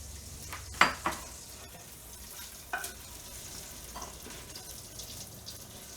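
Browned bacon being lifted out of a frying pan with a utensil: a couple of sharp scrapes and clinks near the start, another at about three seconds, over a faint steady sizzle, with no one talking.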